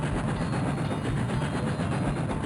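Steady train-ride rumble inside a toy store in the 102 Dalmatians: Puppies to the Rescue video game, with a continuous low rolling drone and faint rhythmic clatter throughout, no talk.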